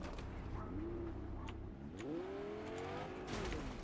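Car engine in the Fortnite video game rising and falling in pitch as it drives and accelerates, steady and fairly close, with game ambience and a brief burst of noise near the end.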